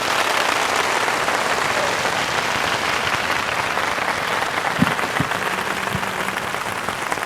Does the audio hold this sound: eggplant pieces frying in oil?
no